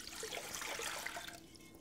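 Warm water for challah dough pours steadily into a liquid measuring cup, a close, continuous splashing trickle that tapers off near the end, with no talking.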